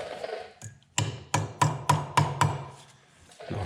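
A hard cotter pin is hammered in during clutch assembly on a John Deere B tractor engine rebuild: six sharp, evenly spaced metallic knocks, close and loud, with quieter handling sounds around them.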